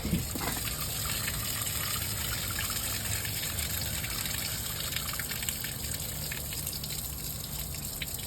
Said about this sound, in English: coolant drained out